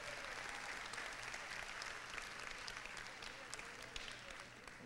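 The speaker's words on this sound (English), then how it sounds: "One more applause for the Employee of the Year for the Behavioral Health Department." An audience applauds the Employee of the Year of a behavioral health department: continuous, fairly faint clapping that holds steady for the whole stretch with no speech over it.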